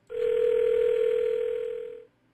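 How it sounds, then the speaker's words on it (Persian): A telephone dial tone inside a video game, heard as one steady, continuous tone lasting about two seconds and then cutting off, loud and clear, with no talking over it. "زنگ بزنیم ببینیم کسی برمی داره"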